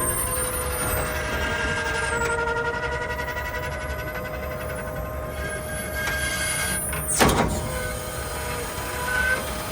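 Hydraulic moving-floor cylinders under a trailer slide back with a continuous low mechanical hum and faint metallic whines, joined by a sharp burst of hissing air near the end, close and steady, with no talking.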